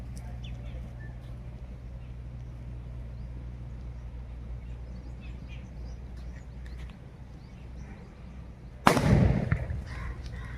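Quiet outdoor ambience for several seconds, then one sudden loud sutli bomb firecracker blast inside a water bottle, with a splashy, rushing tail as water sprays.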